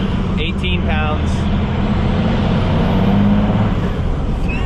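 12-valve truck engine with a new turbo accelerating, a loud steady low rumble and road noise building, with someone talking over it.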